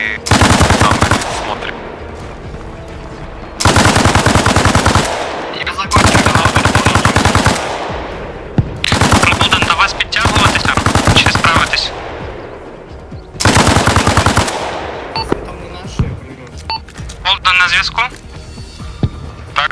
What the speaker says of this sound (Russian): пулемет на дальних работает